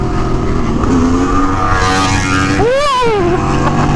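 Sport motorcycle accelerating hard through a wheelie on a group ride, a loud close engine howl that climbs steadily in pitch, then surges and sweeps up and down sharply near the end.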